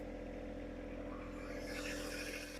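Steady idling drone of a John Deere compact tractor engine, with a hydraulic strain rising partway through as the 260B backhoe boom is pushed forward; no talking.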